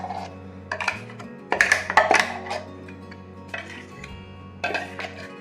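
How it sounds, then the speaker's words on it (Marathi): Fasting-recipe batter made from barnyard millet flour being scooped into a large pot, with scattered clinks and scrapes of utensil against metal in bursts, near and fairly quiet over a steady low hum. "आता आपण एक मोठ्या भांड्यात काढून घेऊ"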